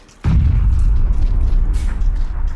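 A grenade explosion in PUBG, one sudden heavy boom followed by a deep rumbling tail that lingers for a couple of seconds, loud and close.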